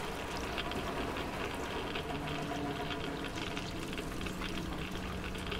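Water drains in the Metro Exodus video game, a steady churning, bubbling rush that holds at an even level throughout with no talking over it.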